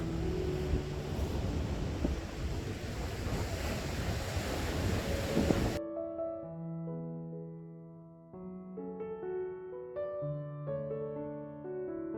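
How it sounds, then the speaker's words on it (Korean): Rough winter sea waves wash onto Hamdeok beach on Jeju's east coast, with broad surf and wind noise filling the first half before the sound cuts abruptly to steady tonal music. "함덕 해수욕장의 겨울바다의 매력, 이 거친 파도가 밀려오는 모습입니다."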